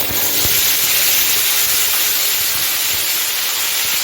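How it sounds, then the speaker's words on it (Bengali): Prepared spice paste hits hot oil in a pan for cabbage pakora and sizzles loudly, a close, continuous hiss with no talking. "আমি এখন বানিয়ে রাখা পেস্টটা দিয়ে দিচ্ছি"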